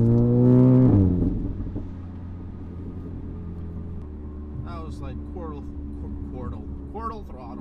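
A car engine is held at quarter throttle, first a loud steady revving hum that then settles into a lower, even drone, with someone talking over it toward the end.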